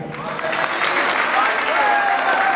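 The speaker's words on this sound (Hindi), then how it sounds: "कमल पड़िया जी को एक बार जोरदार तालियां" Crowd applause at a Jain devotional bhajan gathering in Shikharji, held on the eve of Parshvanath's nirvana, a steady dense wash of clapping lasting a few seconds with some voices mixed in.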